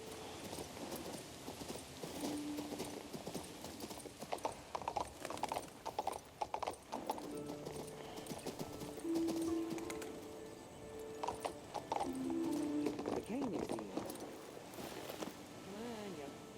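Horse hooves clip-clopping in the King's Bounty 2 video game, a rhythmic trotting patter with occasional whinnies and light rain in the background, while someone speaks over it.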